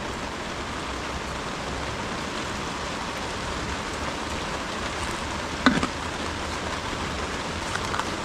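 Rain falls steadily on an outdoor farm setting, a continuous dense hiss of drops on surfaces with a brief louder spatter midway, no talk.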